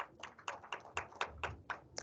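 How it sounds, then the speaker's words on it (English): Faint, close hand claps from participants in an online climate discussion, about nine crisp claps at an even, quick rhythm with no crowd behind them. "So another round of applause for all of us."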